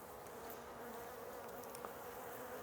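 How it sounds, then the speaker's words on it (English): Honey bees buzz and fly around an open hive, a steady close droning hum of many insects with a few individual bees passing nearer. "a few bees now flying in the air to investigate what it is we're doing"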